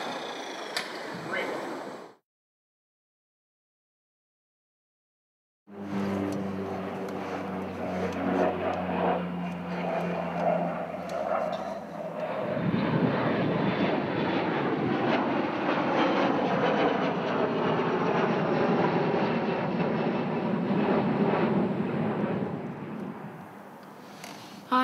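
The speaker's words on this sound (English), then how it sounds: "let Kara know if there's any planes coming" An airplane passing near Wellington Airport on a hilltop spotting spot, a broad roaring rumble that swells and sustains for many seconds after a short talk segment and a pause, loud and close.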